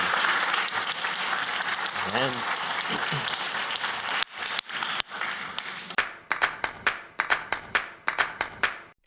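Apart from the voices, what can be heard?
audience applause after a panel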